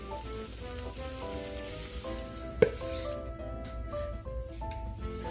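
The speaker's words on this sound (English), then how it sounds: "now that the butter is melted, let's go ahead and add in our marshmallows" Marshmallows dropped into melted butter in a pan for Rice Krispies treats, giving a soft sizzle and a sharp clink partway through, under background music and light talk.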